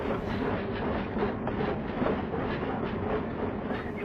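Thomas the steam engine chugging along the rails, a steady, dense rumble of wheels and rolling stock with rhythmic clatter, continuous and fairly loud with no voices.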